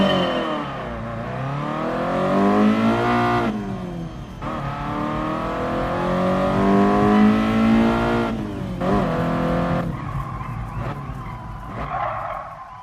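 A Bugatti in Gran Turismo Sport drives a braking test, its engine rising and falling through gear changes, with long loud tire skids under hard braking, then revving again near the end.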